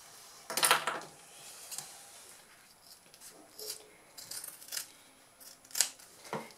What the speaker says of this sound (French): Et maintenant, je vais découper cette partie.